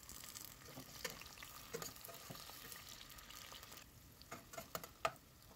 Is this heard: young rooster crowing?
no